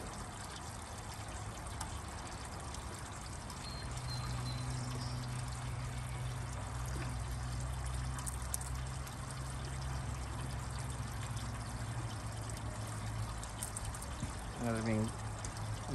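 Water from a hose flows steadily into a septic tank during a flow test, a continuous trickling pour under an outdoor hum, with voices talking briefly over it.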